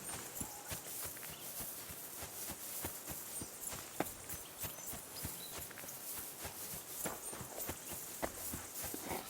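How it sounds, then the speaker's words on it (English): Horse hooves clip-clop steadily at a walking pace in Kingdom Come: Deliverance II on PS5, with a run of close, regular knocks over a constant background ambience and no voices. "Lovely horses you have here."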